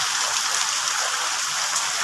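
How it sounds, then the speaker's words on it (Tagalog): A steady downpour hisses without a break, rain pattering densely and loudly on nearby surfaces. "sobrang lakas ang ulan kanina."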